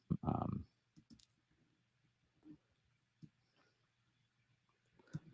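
A computer mouse clicks a handful of times, sharp isolated taps spaced irregularly and fairly quiet, with a faint voice in the background.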